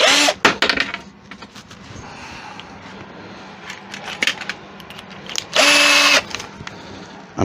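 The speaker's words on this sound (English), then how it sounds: "And drill those two holes out." A power drill whirs in short bursts as it bores into wood, with a longer, loud run near the end and scraping workshop handling sounds between.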